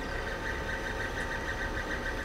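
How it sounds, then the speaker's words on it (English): A 3D printer's small motor drives the nozzle with a steady, close mechanical whir and faintly pulsing hum that runs unbroken throughout, with no speech over it. "That's the sound of a small motor working to move the nozzle so it can print the design."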